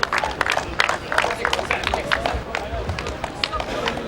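A crowd at a 1998 World's Strongest Man event cheers and claps steadily in the background while a commentator talks over the noise.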